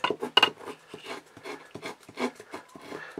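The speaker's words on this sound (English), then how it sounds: "you just want to take your knife and scrape across the top all those little shards" Knife spine scraping across a ferro rod to shave off shards for a birch bark fire, a series of short, uneven rasping strokes close up, one sharper scrape near the start, no talk.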